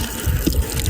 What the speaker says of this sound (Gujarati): પાણીના કદી પંપ મારવાથી પાણી બહાર આવે